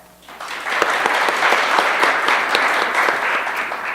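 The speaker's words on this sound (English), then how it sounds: "So when I hold up a sign, you clap, got it?" Clapping from an audience at a live audio drama performance swells in quickly after a quiet moment and continues as a dense, steady round of applause, close and fairly loud.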